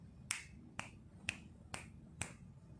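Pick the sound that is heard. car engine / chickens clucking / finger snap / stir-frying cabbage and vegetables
finger snap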